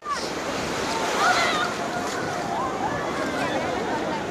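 Ocean surf at Puri beach rolls and washes in a steady close rush, with wind buffeting the microphone and voices talking over it.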